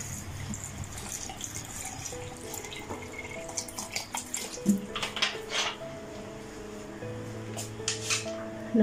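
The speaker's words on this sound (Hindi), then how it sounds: "पानी शामिल करेंगे।" Water poured into a blender jar with raw mango and sugar for keri sharbat: trickling splashes that come and go, with soft tonal background music underneath.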